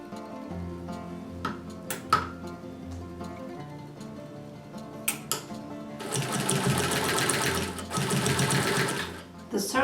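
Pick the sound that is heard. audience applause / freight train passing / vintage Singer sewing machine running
vintage Singer sewing machine running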